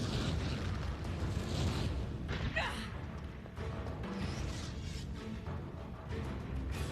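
A Confringo spell explosion in the Hogwarts Legacy video game bursts over a constant roaring, rumbling combat din, fairly loud and sustained throughout.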